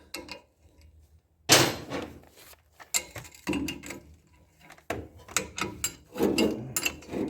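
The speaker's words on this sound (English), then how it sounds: "Just putting a couple of M10 nuts and bolts through there." Metal nuts and bolts fitted on a vortex topper for a Ford 4000 tractor: bursts of clanking, rattling and scraping separated by short quiet gaps, close and loud, with no speech.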